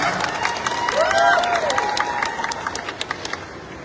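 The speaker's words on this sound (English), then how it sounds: "Let's give a warm applause for CJ Obiasa." Applause and cheering for CJ Obiasa at a Miss Grand International homecoming meet-and-greet, crowd clapping mixed with rising whoops and shouts, with a few separate claps lingering as it fades.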